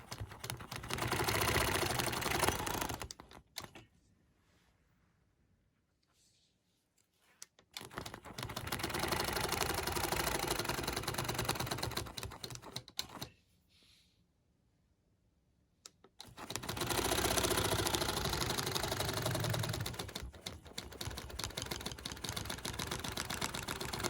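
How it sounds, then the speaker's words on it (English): A sewing machine stitches a swirl quilting design around a quilt block using a Lily Lines 3 quilting ruler, running in three steady bursts separated by two short quiet pauses, loud and close with no talking. "So let's go ahead and sew."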